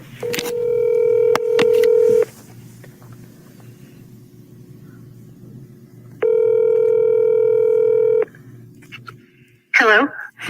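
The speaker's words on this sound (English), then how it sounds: "we are conducting a recorded phone call" Telephone keypad tones and a steady dial tone sound on a recorded phone line, two long tone stretches separated by line hiss, ending with a brief ring as the call connects; no one speaks.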